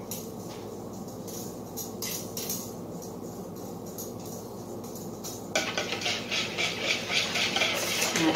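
A whisk beats blueberry almond coffee cake batter in a bowl with rapid rhythmic scraping and clinking. The strokes are softer at first, then turn louder and brighter near the end.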